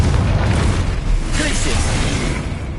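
A Confringo spell blast from the Hogwarts Legacy game on PS5, a dense, loud rumbling burst that sustains at steady level for nearly three seconds, with a brighter crackling swell midway.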